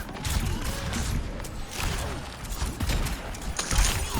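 Overwatch gunfire crackles through the fight as Ashe's dynamite bursts, with a string of sharp pops and rattling impacts at close range, busy and dense for a few seconds and no voices over it.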